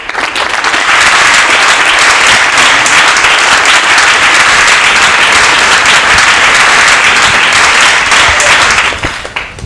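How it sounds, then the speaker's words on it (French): Loud, sustained applause from a live public audience at a Lubumbashi arts show, dense clapping that holds steady for nearly ten seconds before tapering at the end. "accompagnés bien sûr des applaudissements du public"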